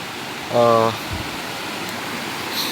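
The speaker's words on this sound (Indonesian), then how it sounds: "Jadi kayak sungai kecil gitu." A small stream on a slippery mountain trail up Mount Guntur rushes with a steady, broad hiss throughout, while a voice speaks briefly near the start.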